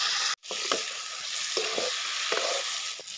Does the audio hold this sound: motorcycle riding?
no